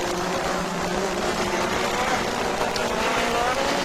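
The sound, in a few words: Formula 1 race cars overtaking, 1985 Grand Prix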